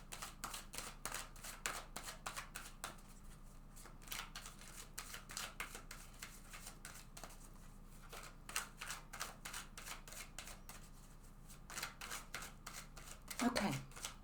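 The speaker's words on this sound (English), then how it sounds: "So let's go ahead and just shuffle this deck several times." A deck of tarot cards being shuffled several times, a quick run of crisp riffling and snapping card clicks, close and fairly quiet, ending with a slightly louder flurry.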